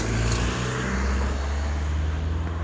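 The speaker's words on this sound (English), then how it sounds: "that were some loud cars" Cars rumbling past close by, a loud engine drone with a steady low roar throughout.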